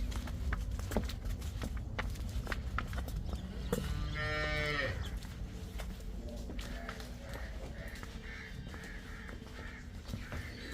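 A cow lets out a long, loud moo amid background noise at a Punjab dairy farm selling cows, with crows cawing faintly in the distance.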